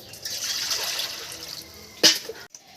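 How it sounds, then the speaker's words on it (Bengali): Water pours into a pot of cut jackfruit as a steady, close trickle that runs for about two seconds, then gives way to a brief splash and clatter before stopping. "আমি এর মধ্যে জল দিয়ে দেবো"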